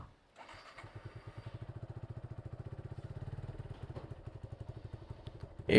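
A Suzuki Gixxer Monotone motorcycle engine starts and idles with a steady, rapid mechanical chugging, close and fairly loud, running on without pulling away before a sharp knock at the end.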